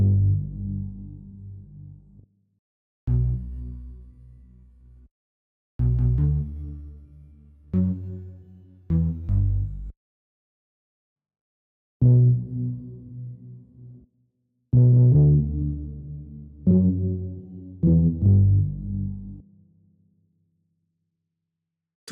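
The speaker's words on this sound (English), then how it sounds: "Let's hear the bass before and after the effects." Deep synth bass notes in Ableton Live 12 play in short phrases separated by silences, first dry and then with effects, each phrase a cluster of sustained low tones.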